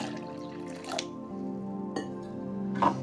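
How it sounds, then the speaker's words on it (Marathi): Water is poured into a mixer jar holding beetroot for juice, giving brief close splashes and drips over a steady hum. "आणि याच्यामध्ये पाणी घालायचं।"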